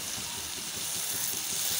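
Tomatoes frying in oil with salt in a pan, a close, steady sizzle with soft stirring scrapes through the short stretch.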